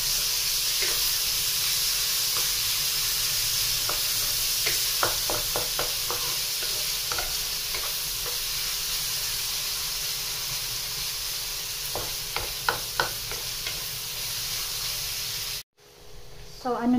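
Red and white onions sauté in a pan with a steady, loud sizzle and hiss throughout, broken by scattered scraping stir strokes, before a brief cut near the end.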